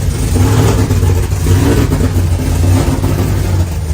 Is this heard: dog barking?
no